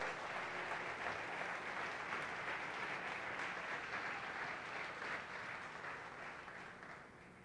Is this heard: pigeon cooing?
no